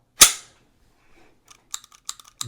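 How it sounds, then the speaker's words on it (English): A modified SIG P320 pistol's slide is released and slams forward with a single loud, sharp metallic snap that rings briefly, followed about a second later by a few faint, quick mechanical clicks. "I pull it back all the way. I hold it back. I rotate the lever in, and I let it go."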